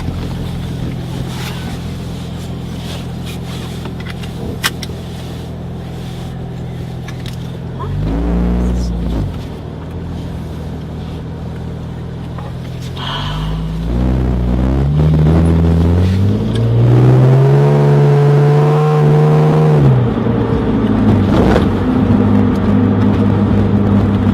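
A 2001 Porsche 996 911 Turbo on coilovers accelerates on a test drive, heard from inside: engine drone rising in pitch through several revving sweeps, growing louder toward the end.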